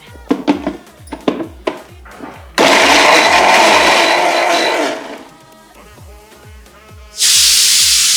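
An electric mixer grinder purees onion, green chilies, ginger, garlic, cashews and coriander into a paste. Short pulsed bursts lead into a loud, steady, close whirring grind that drops in pitch, then roars up again.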